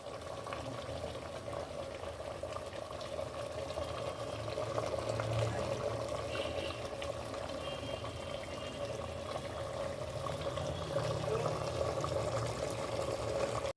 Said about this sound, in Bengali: টকবক করে ফুটছে